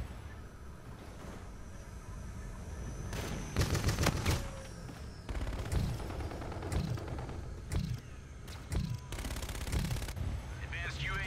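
A De-Atomizer strike fires in the shooter game Call of Duty: Infinite Warfare, with repeated loud bursts of rapid gunfire-like blasts and mechanical clatter, separated by short gaps.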